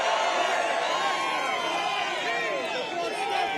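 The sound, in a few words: crowd cheering at Trump rally in the Bronx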